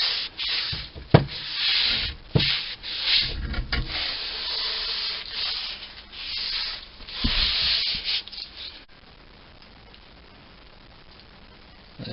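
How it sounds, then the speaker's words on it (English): Rust being rubbed and polished off the metal of a 1946 Boxford lathe by hand, a steady close scrubbing rasp in repeated strokes for about nine seconds before it stops and near silence follows. "bit of elbow grease, all the rust's gone, polished right the way back, all the primer off"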